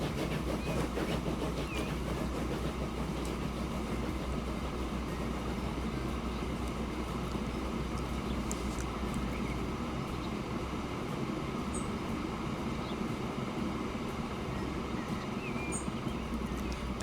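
Loaded freight train in Transport Fever 2 grinding slowly up a slope at full throttle, a steady dense rumble of wheels and engine with faint squeals, continuous and unchanging throughout.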